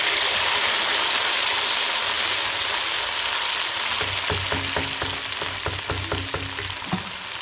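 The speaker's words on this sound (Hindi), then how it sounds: "ये इसी घी में हम प्याज डालेंगे और इसको ब्राउन करेंगे।" Onions and tomato frying in ghee in a pan, a dense continuous sizzle with crackling pops that turn sharper and more broken toward the end, close and loud, with no talking.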